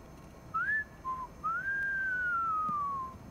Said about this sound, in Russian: Это она так свистит, слушай, да?